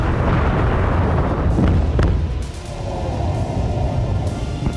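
War explosions in Ukraine roll out as a continuous deep rumbling barrage, with sharper blasts cracking through near the middle before the booming eases slightly but carries on.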